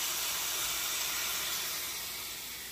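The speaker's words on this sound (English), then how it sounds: "You wanna hear that sizzle." Continuous bright sizzling hiss of chicken searing on a hot indoor electric grill grate, close and steady, fading slightly toward the end.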